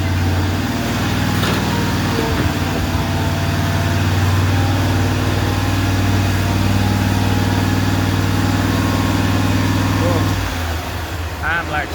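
A 2007 Exmark lawn mower engine runs loud and close with a steady low drone and buzzing harmonics, then drops off near the end as it is shut down, with a voice talking over it.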